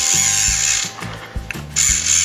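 A DIY Arduino obstacle-avoiding robot's wheel motor spins up close and loud, whirring with a geared, ratcheting buzz in several short bursts separated by brief pauses.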